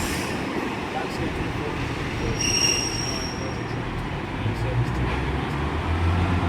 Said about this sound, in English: And here comes the Pendolino.